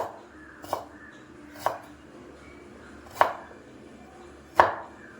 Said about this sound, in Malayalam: ഇങ്ങനെ കട്ടിംഗ് ബോർഡ് വെച്ചോ, അല്ലെങ്കിൽ നമ്മുടെ കൈ വെച്ചോ അരിയാം